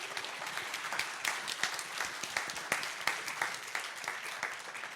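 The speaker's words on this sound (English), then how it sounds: "Go on, clap." A security conference audience claps for the next speaker, scattered individual claps standing out within moderate applause that carries on steadily.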